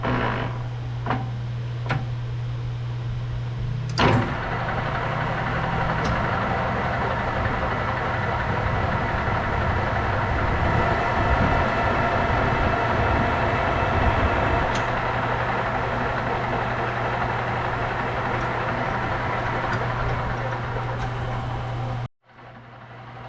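A metal lathe turns steadily while threading, with a constant motor hum and whirring drone, a few sharp clicks at the start, then an abrupt stop near the end.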